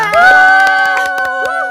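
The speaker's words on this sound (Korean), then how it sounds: "지금 밖에서도 모두가 환호를 해주고 계십니다" A crowd cheers and claps in a short, loud burst of applause with excited shouts that fade slightly toward the end.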